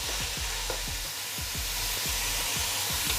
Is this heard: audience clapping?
no